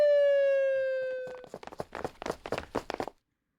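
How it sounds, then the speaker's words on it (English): Video-game police siren wail that holds steady and then falls away within about a second and a half, followed by a quick patter of hurried footsteps; no talk. "With sirens blaring, the police finally arrived on the scene."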